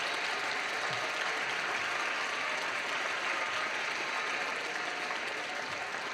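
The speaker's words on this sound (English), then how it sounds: "let's give them a round of applause for all the help they've given you over the last 13 years" A crowd of graduates at a high school graduation ceremony applauds their families and friends in a steady, even roar of clapping that sounds somewhat distant and holds for several seconds.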